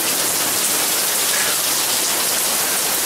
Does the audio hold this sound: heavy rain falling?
yes